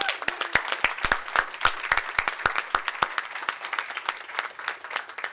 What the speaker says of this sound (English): Give yourselves a big, huge round of applause.